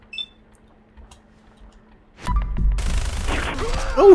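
Gunfire in the video game Fallout 4 erupts after a quiet stretch, a dense, loud burst of rapid shots continuing to the end of the clip.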